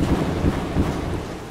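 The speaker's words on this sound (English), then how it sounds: "The rain's getting heavier." Heavy rain in the horror video game Don't Knock Twice, a dense, loud, continuous rushing roar with no talk over it.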